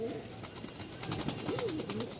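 A male pigeon coos in soft rising-and-falling calls against a faint background murmur, with a little indistinct voice present.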